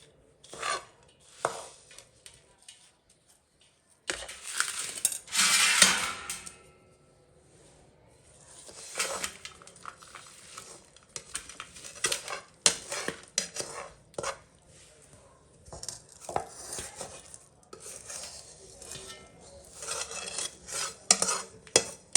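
A ghee-greased steel bowl presses and rubs warm gundar pak flat in a plate, making irregular close scraping and rasping strokes with metallic clinks and short pauses between passes.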